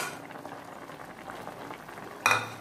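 Creamy sauce for chicken pastel bubbles at a steady boil in a pot, a soft low burble throughout, then a brief louder clatter near the end.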